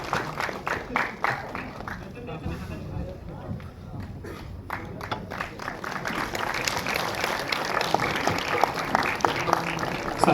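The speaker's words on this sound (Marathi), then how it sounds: "जोरदार टाळ्या होऊन जाऊ देत आभासाठी सुद्धा." Applause from an audience at an award felicitation ceremony rises and continues through the clip, with a voice speaking over it early on and a busy wash of clapping underneath.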